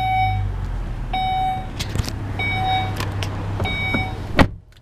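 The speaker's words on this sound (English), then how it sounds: "All you have to do is have the key fob in the vehicle, put your foot on the brake, and push to start." A 2012 Volvo XC70 T6 Platinum idles steadily with a low engine hum while a series of beeps, chimes and electric whirs sound as the push-button start is pressed, ending with a brief clunk.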